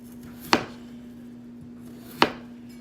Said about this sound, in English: we're just gonna take a good sharp knife and just cut those potatoes up.